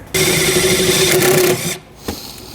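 A power drill drives a self-tapping screw into the cargo compartment of a 2018 BMW X5, a loud, steady motor whine lasting about a second and a half before stopping, followed by a faint click.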